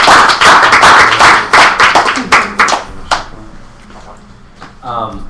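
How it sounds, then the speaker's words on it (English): A small audience claps for Chance at the close of a talk-series meeting, with brisk, fairly loud clapping for about three seconds that quickly thins and fades into quiet room sounds. "Let's have another round of applause for Chance."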